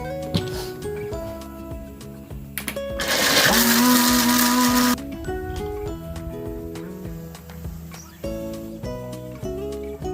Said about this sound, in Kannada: ಇದಿಷ್ಟನ್ನು ಈಗ ಚೆನ್ನಾಗಿ ಪೇಸ್ಟ್ ಮಾಡ್ಕೊಬೇಕು